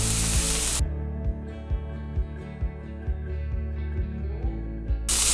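Garlic, paprika and thyme sizzle in a hot pan for vegan keto stuffed portobello mushrooms, a bright frying hiss with repeated soft clicks and taps of stirring, bracketed by louder bursts at start and end.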